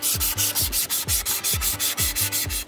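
Sandpaper rubbed by hand along a wooden dinghy mast, a steady run of rhythmic back-and-forth scraping strokes, close and fairly loud, about six strokes a second, with no talking.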